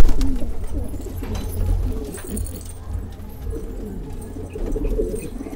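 Patiala magpie pigeons coo softly and repeatedly over a low, steady rumble of background noise, with no talking.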